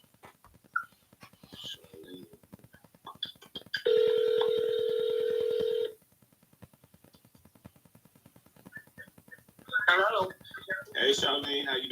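A phone line during live real estate cold calls gives a long steady tone for about two seconds, with short dialing and call-progress beeps around it while someone talks over the line.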